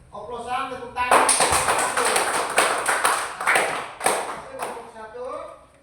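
A room full of people claps loudly for several seconds after a group presentation, the sharp, uneven claps building quickly and tapering off, with a voice speaking briefly around them.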